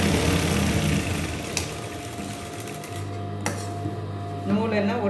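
A sewing machine stitches a small 1.5-inch folded hem for a drawstring casing, with a close, steady motor whir broken by brief clicks and a pause before it starts up again. A voice can be heard faintly at moments.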